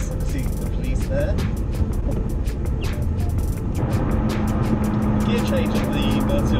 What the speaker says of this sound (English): Gear change on the Murcielago is so smooth, it's really lovely, it's a lovely gearbox.